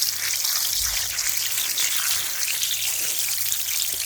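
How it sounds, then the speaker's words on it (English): Steady running water splashing and trickling over a guinea hen weed plant being washed, continuous and fairly close, with no talking. "the first thing that you're going to do is to wash your guinea hen weed plant properly"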